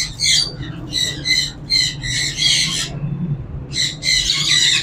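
A caged parrot at a Sunday bird market in Bahawalpur squawks in loud, harsh bursts repeated several times in quick succession, close and dominant over a low background murmur of the market.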